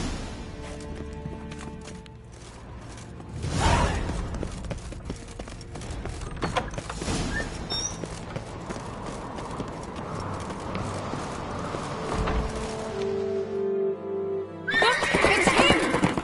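Horses gallop and neigh in a video game, rhythmic hoofbeats drumming steadily alongside loud whinnies, a burst of pounding at the start and a louder surge near the end, with brief game voices mixed in.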